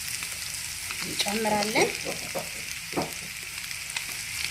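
Chopped onion sizzling and frying in a pan with awaze spice paste and butter, steady crackle with occasional stirring scrapes, while a voice talks briefly over it.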